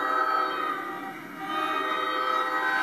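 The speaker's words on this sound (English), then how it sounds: "I didn't expect the train here." A train on the Passaic Valley Line passes nearby with a sustained tonal horn or whistle-like sound over a steady rail rumble, dipping briefly before returning, with no voices.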